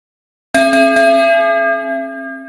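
A school bell signalling the start of class strikes suddenly after a short silence, rings out in a few quick strokes, and leaves a sustained bright metallic tone decaying slowly before another strike at the end.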